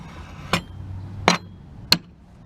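A hammer strikes a clip on concrete formwork three times, sharp metallic knocks spaced about a second apart, close and distinct over quiet background.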